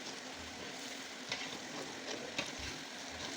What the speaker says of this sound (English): we're frying this on a very high heat